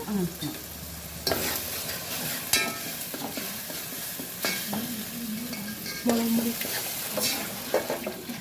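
Ground masala paste for a home-style fish curry with fenugreek and curry leaves sizzling in a pan as it is stirred, a steady frying hiss broken by scraping spoon strokes, close with no talk.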